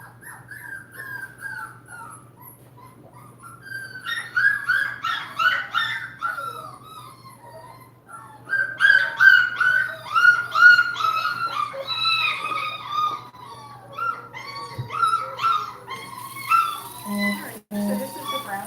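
Nova Scotia Duck Tolling Retriever puppies whimper, yip and whine in repeated high, wavering bursts close by during bath time, building in intensity with a low steady hum underneath.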